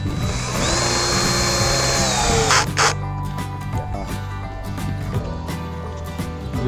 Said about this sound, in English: So give me the drill.